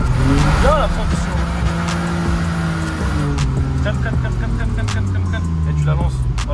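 A car drifts with a loud engine roar and long, wavering tire squeals as it brakes and is thrown into a slide, close by, while people talk excitedly over it.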